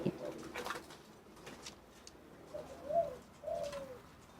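A large red dove coos in short, soft phrases, two clear calls near the end, amid light background rustle and faint bird noise; no talk.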